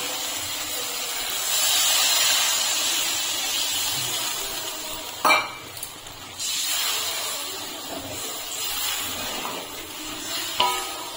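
Water poured into a pan of fried, oil-releasing spice masala, a loud hissing sizzle that swells then settles into a softer steady bubbling with a few sharp bursts, no voices.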